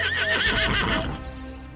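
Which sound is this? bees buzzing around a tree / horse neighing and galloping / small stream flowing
horse neighing and galloping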